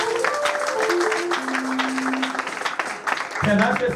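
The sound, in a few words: church congregation clapping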